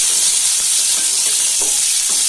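Shallots frying in a pan for a Tamil egg gravy sizzle in a steady, bright hiss, close and continuous with a few soft stirring scrapes and no talking.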